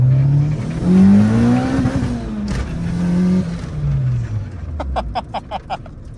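A Honda S2000 sports car on the road, heard from inside: the engine revs rise and fall through gear changes, loud and close, then a series of short pulsing bursts near the end.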